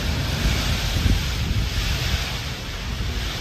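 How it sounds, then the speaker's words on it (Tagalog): Strong typhoon wind at signal number 5 batters a hut, roaring loudly and continuously into the microphone with a steady broadband rush and no voices. "lakas ng hangin oh"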